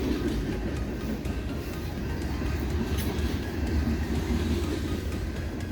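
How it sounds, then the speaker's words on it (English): A BNSF freight train passes close by as a steady, heavy rumble of wheels and cars, loud and unbroken from start to finish, with no voices. "we'll let this train go by here."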